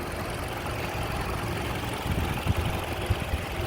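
A 2.5L four-cylinder engine in a Toyota Camry idles steadily just after starting, with newly replaced spark plugs. The idle is a constant, even hum close by, with a few low thumps toward the end and no talking.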